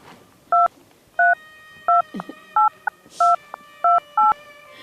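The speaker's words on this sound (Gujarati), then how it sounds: "લે વેવાઈને ફોન કરું." A telephone number is keyed in on a phone: eight crisp touch-tone beeps in an irregular rhythm, each a short steady dual tone, close and clear over a quiet room.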